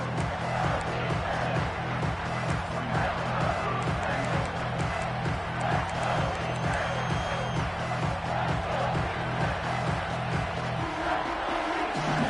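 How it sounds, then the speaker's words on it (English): A stadium crowd in an American football video game cheers in a steady, dense roar during a red-zone defensive stand, with commentary talking over it throughout. "the crowd coming to life here trying to help this defense down in the red zone"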